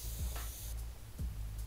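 An airbrush spraying paint gives a steady, close, breathy hiss that runs without pause, with low thumps in the background.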